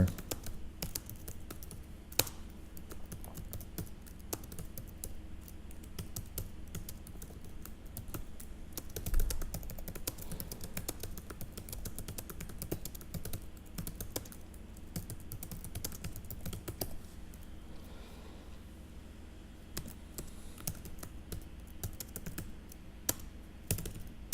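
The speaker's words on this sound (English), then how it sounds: "I'm just typing this out just on the fly" Steady rapid clicking of computer keys, continuous typing at close range with no talking.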